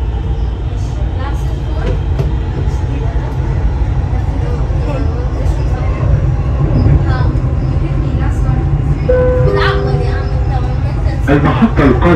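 Dubai Metro Red Line train running between stations, a steady loud low rumble and rolling hum throughout, with faint tonal whines and brief clanks near the end, recorded from inside the carriage.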